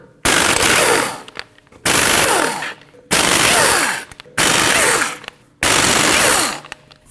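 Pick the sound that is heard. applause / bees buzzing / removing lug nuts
removing lug nuts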